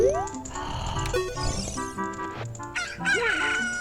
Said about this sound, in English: I don't know if I can make your cuckoo crow